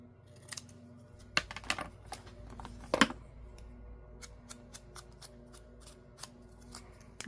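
Scissors trim a paint chip card with a handful of crisp, close snips spread unevenly through a quiet room, one cut sharper and louder than the rest.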